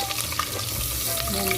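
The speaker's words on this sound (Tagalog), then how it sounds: "Ngayon ay ilalagay po natin yung sibuyas." Onion added to a hot pan for a chicken dish, sizzling steadily and loudly up close with light stirring scrapes.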